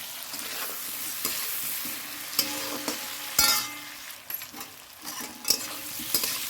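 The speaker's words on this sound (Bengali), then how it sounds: "মাছগুলো এখানে ভাজা হয়ে গেছে দেখো" Fish sizzles in hot oil in a pan for a fish curry, with a steady broadband hiss and scattered scraping and clinking of a spatula stirring, close and with no talk.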